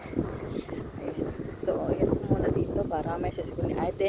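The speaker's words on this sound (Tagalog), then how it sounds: "Kasi ko naririnig nyo sa background ko yung hangin." Steady wind rumbles and buffets the microphone throughout, with a person talking over it.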